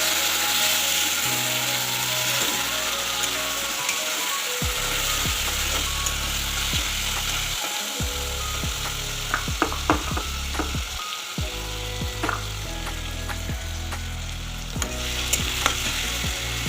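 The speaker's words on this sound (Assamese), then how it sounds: "এতিয়া আমি তাতে মগু দাইলখিনি দি অলপমান ভাজি ল'ম" Moong dal frying in a hot pan with oil, a steady crackling sizzle throughout, punctuated by scraping and stirring clicks of a utensil against the pan, loud and close with no talking.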